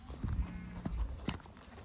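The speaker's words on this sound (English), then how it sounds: "the big mob of sheep just ran up to us" A big mob of sheep runs past on open farmland in central west NSW, their hooves making a few soft, scattered thuds and scuffles at a fair distance, quiet and brief with no voices.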